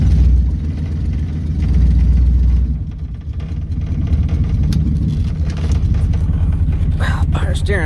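A 1969 Mustang engine that sat rained in for 21 years, running with a loud, close, steady low rumble while the car is slowly turned around, with people talking over it.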